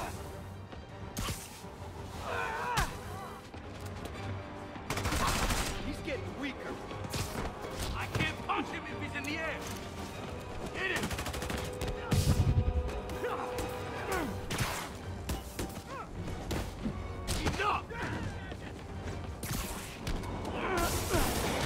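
Enemy gunfire in Marvel's Spider-Man Remastered, repeated sharp bursts and crashes scattered through a busy combat mix with shouting voices, impacts and movement, loud and near throughout.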